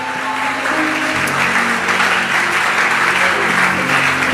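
Church congregation at a Sunday service applauding and cheering, a dense, loud, continuous wash of clapping from a large crowd with some voices mixed in, sustained for several seconds.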